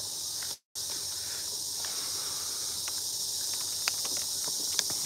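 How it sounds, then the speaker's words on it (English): Cicadas and insects on Samet Island droning in a steady high-pitched hiss, faint and continuous throughout with a brief dropout near the start and a few soft ticks over it. "You hear the cicadas?"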